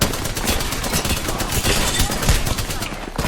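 Rapid, loud automatic gunfire from an Apex Legends match fills the whole stretch, a steady stream of shots with a voice faintly mixed underneath.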